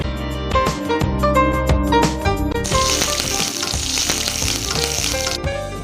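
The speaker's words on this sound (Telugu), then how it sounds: "కరివేపాకు కూడా బాగా ఫ్రై అయిపోయింది కదండి" Curry leaves fry in hot oil for chicken salna, a loud, steady sizzle close up that swells into a brighter, hissing crackle partway through, with faint scraping underneath.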